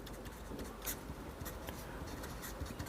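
A pen scratches across paper in quick, close strokes while a math solution for a class 8 squares and square roots exercise is written out, faint and intermittent, with no talk.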